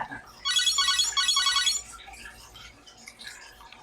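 Bright, beepy electronic chiptune tones from a Contra game on a mini Game Boy burst for about a second, followed by fainter scattered blips.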